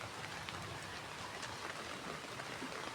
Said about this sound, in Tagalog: Alam mo magandang tunog, diba? Umuulan.